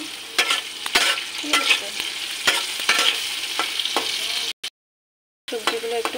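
Vegetables lightly salted and frying in a pan for chilli chicken sizzle under repeated spoon stirs and scrapes, with a brief silent gap and a short spoken phrase near the end.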